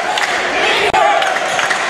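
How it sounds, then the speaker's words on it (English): A basketball crowd at a Greensboro College game roars loudly and continuously, a dense wash of cheering voices with a brief cut in the middle. "Crowd getting behind the Greensboro College defense here"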